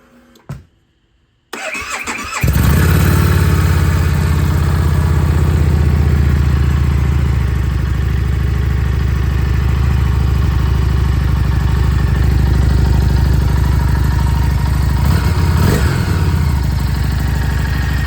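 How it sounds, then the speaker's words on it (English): A Harley-Davidson Street 500 motorcycle with its stock exhaust fires up after a brief click and settles into a loud, steady idle close by, a low throbbing rumble that runs on with little change. "I'm going to go through the stock exhaust and fire it up, see what it sounds like at stock"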